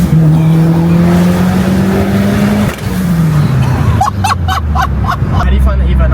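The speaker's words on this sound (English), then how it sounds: "How the sounds that this car produces is insane." A Mitsubishi Evo 9 engine drones and rises in pitch, then shifts down as people talk, followed by a rapid series of sharp popping crackles from the exhaust.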